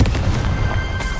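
Confringo fire spell bursts in Hogwarts Legacy on PS5, a quick cluster of loud crackling blasts close up, rapid pops layered over a rumbling low end, with no talk.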